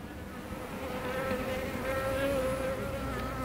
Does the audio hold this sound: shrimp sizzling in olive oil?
no